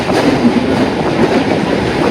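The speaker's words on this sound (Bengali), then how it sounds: "দেখো ট্রেনটা দেখো কেমন ঘুরে গেছে" A Kolkata Chakra Rail circular-line train rumbles over a curving bridge near Khidirpur dock, heard from on board as a loud, steady low roar of wheels and carriage noise with faint clattering.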